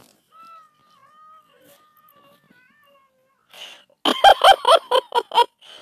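Birds being fed let out a quick burst of loud, close honks near the end, following a mostly quiet stretch with faint thin tones.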